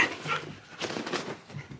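A Husky gives soft whines mixed with quick panting breaths close by, in short uneven bursts.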